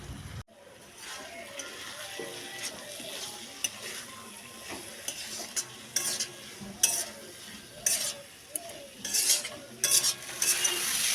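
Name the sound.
fried potatoes stirred into sizzling spice paste for fish curry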